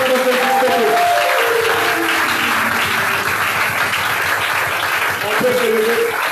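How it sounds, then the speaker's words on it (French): A church congregation at a French thanksgiving service applauds loudly and continuously, dense clapping with voices and a sung or spoken tone rising over it at the start and end. "On acclame très fort le roi."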